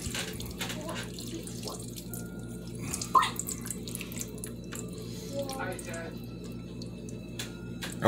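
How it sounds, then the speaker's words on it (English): Juice is poured into a dish while cooking pineapple rice, a trickling, splashing liquid flow with a few clinks and knocks, heard close up with talking nearby. "I'm going to pour the juice in there."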